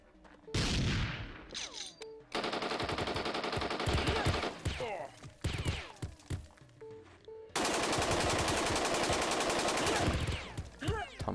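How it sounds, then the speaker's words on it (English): Sustained bursts of automatic gunfire and suppression fire in the tactical video game Jagged Alliance 2, loud and dense, with two long rattling volleys separated by shorter shots and brief pauses; no talk. "Ton of suppression fire, but we are prone."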